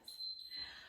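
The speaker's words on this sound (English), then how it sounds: "I hope that beep comes soon" Steady electronic beep from an interval training timer during a workout, a thin sustained tone lasting most of a second, faint and alone.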